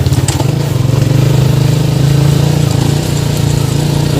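A motorcycle engine runs loud and close, its rough mid-pitched drone wavering steadily as the rider shifts by throttle alone without using the clutch, on a village road toward Sidokayo in Desa Dermaga Jaya.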